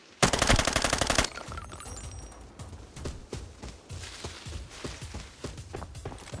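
A rapid burst of automatic gunfire in the video game Arena Breakout opens the clip, followed by scattered distant shots and rhythmic footsteps, with no talking.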